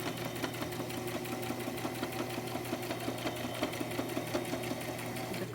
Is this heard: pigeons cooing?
no